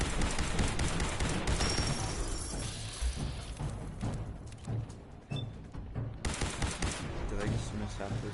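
Rapid bursts of gunfire ring out in Fallout 4's Far Harbor expansion, a dense, loud fusillade of overlapping shots and impacts that continues almost without pause, with a player talking over the shooting.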